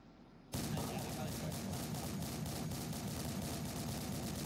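Sustained automatic gunfire in a military shooter video game, aimed at a helicopter, bursting in abruptly and continuing as a dense, loud rattle of rapid shots with a steady rumble beneath.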